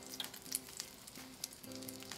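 Oyster pancakes fry in a pan with a steady, close sizzle and scattered crackling pops, fairly quiet, with no talking.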